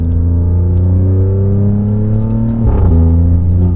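A loud, close engine of a 2020 Alfa Romeo Stelvio Quadrifoglio SUV rumbles steadily as its pitch climbs, briefly dips near the end, then keeps rising with a deep throaty growl.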